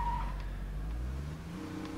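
Engine drone of a car driven in the zombie survival game State of Decay 2, a steady low rumble throughout with a slight shift in pitch midway, no talking.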